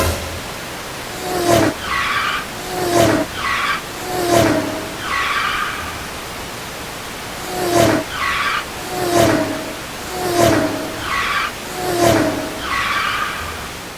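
Electronic motorcycle engine tones from the Atari Stunt Cycle motocross video game, loud bursts of rising synthetic whines and buzzing noise repeating in a regular looping pattern.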